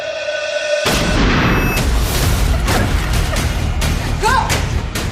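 A loud gunshot in a school-shooting thriller film bursts in suddenly after a near-silent moment, followed by a sustained rumbling, crashing wash of noise.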